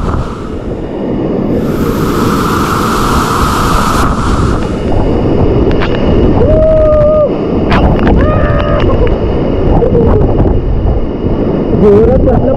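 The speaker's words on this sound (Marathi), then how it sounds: "जास्त जोरात बसलं पाणी" Water roars down hard at the hidden Khalasval waterfall near Munde Wadi, Karjat: a loud, steady, close rush of pounding water and spray fills the whole stretch, with brief higher whistle-like tones coming through the noise.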